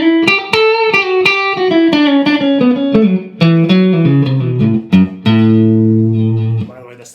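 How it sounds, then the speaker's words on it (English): Electric guitar played through the clean channel of an amp with reverb from a Fractal Audio FX8 multi-effects floor processor, a descending run of plucked notes, then a sustained chord ringing out and decaying, loud and close with no talking. "little bit of reverb."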